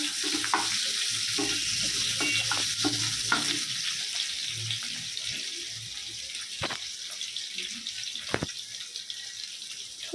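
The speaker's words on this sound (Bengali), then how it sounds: "এখন এই তেলে আমি একটা পেঁয়াজ কুচি দিয়ে দেব, একটা বড় সাইজের। পেঁয়াজটা ব্রাউন করে ভেজে নেব।" Chopped onion frying in oil for a spicy boal fish curry, a continuous sizzle with repeated spatula scrapes and clicks against the pan, a couple of sharp knocks near the end, no speech.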